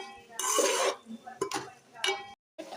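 Ivy gourd and curry leaves tossed in a pan, with a few scraping, clattering stirs and a faint sizzle close by.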